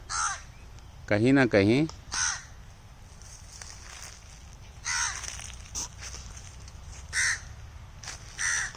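Several loud, harsh crow caws ring out close by in a quiet rural village in Uttar Pradesh, a tight cluster of calls followed by more scattered caws, with someone talking softly in between.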